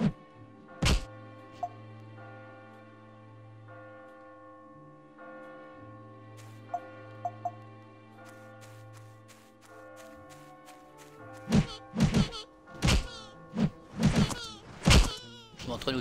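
Shooting practice in My Time at Portia: sharp thunking hits land sparsely at first, then in a quick cluster of louder impacts, over a soft musical game background.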